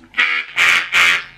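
A diatonic harmonica chord drawn too hard, played three times, harsh and reedy with a thin, strained edge, each breath swelling then fading, close and fairly loud.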